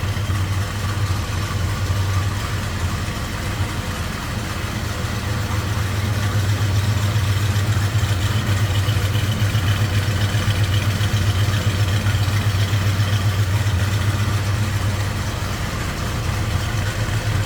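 A 1969 Chevrolet C10 pickup truck idles steadily with a deep, rumbling, close-up engine note that holds constant throughout, with some talking heard over it.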